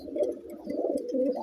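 Pigeons coo close by in a continuous low, throaty murmur. The warbling rises and falls with no voices around.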